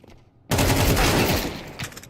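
Counter-Strike 2 gunfire breaks in suddenly after a short quiet. It becomes a loud, dense automatic burst lasting over a second, then fades into scattered shots and in-game noise.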